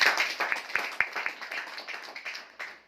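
An audience at a talk in Kota, Rajasthan, claps loudly together on request. The burst is dense and close, with a few sharp individual claps standing out, and it tapers off toward the end.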